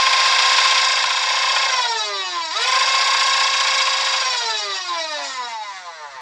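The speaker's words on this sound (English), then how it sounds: "So let's go ahead and fire this." The NG-2 Pathfinder full-auto Nerf sidearm, driven by a geared motor with metal gears, fires with a loud, whirring whine that keeps sliding down and back up in pitch across several seconds, with no voices.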